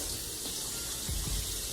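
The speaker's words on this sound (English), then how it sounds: "You want to rinse it under cold water, not too cold but cold." Cold tap water runs steadily into a kitchen sink as raw salmon is rinsed under it, a soft continuous hiss and splash with a few low thuds of water hitting the fish, fairly quiet and without talk.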